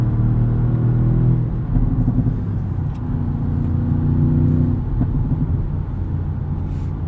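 A 2016 Audi S7 drives on, its engine a steady, loud rumble that swells as it accelerates, then eases and builds again, with no one talking.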